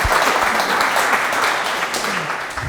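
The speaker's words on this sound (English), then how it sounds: "a round of applause." Meetup audience applauding after a talk on building and scaling sales teams, a loud, full wash of clapping from a nearby crowd, sustained and slowly easing toward the end.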